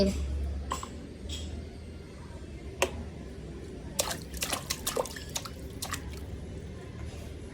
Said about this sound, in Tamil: கீழே வேற ஊத்துறது பத்தியா.